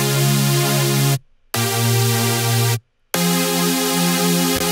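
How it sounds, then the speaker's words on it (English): A bright, airy supersaw synth chord holds steadily, broken by two short gaps of silence before continuing, loud and alone. "this is the more super saw, just kind of, it's more airy and it's more focused on the high end"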